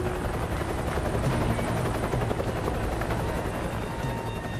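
A helicopter's rotor thumps steadily and loudly throughout, with a dense, continuous engine roar and no voices.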